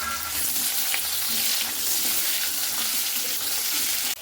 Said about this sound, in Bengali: আলুগুলোকে খুব ভালো করে আমি ভেজে নেব